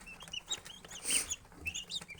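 Young turkey poults kept warm indoors chirp in high, thin peeps, several short calls scattered over a couple of seconds, fairly faint and close.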